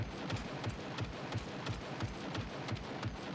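A robot fires in the game SCUM, a faint, distant, steady run of evenly spaced shots, roughly three per second.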